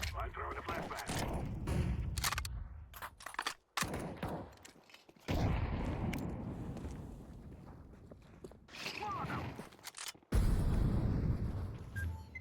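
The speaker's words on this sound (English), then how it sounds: "I'm throwing a flashbang." A flashbang grenade goes off in a first-person shooter match amid scattered gunfire and footsteps, with sharp loud bursts separated by abrupt silences and voices talking over the action.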